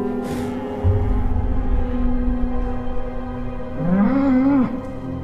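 Heck cattle, a bred-back aurochs type, give a low drawn-out moo with steady tonal harmonics, then a second rising-and-falling call near the end, fairly close and loud over a low rumbling background.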